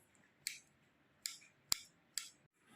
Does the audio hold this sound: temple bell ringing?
no